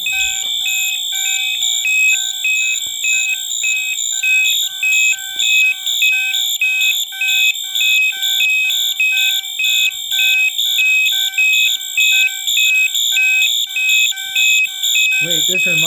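A 1989 Moose Z900 fire alarm panel sounds, with loud steady electronic tones pulsing in a regular rhythm throughout. Someone talks alongside the alarm.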